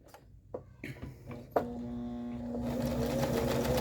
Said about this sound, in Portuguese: eu deixo nesse e vou fazer o ponto zigue-zague